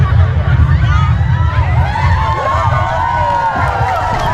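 Audience at an outdoor religious sermon in Tretes, Prigen, Pasuruan, heard as a loud, close, sustained crowd roar with clapping and scattered shouts and cheers throughout.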